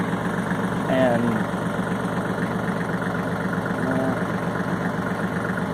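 A tractor engine idles in a steady, loud, even drone while someone tries to shift it into gear, with a brief whining tone rising and falling over it and a single spoken word.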